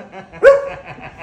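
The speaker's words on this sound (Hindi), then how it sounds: "यो भाई दो कुत्ते भी पाल रहा" A dog at a shop gives one short, sharp bark close by, standing out against quieter low background rumble.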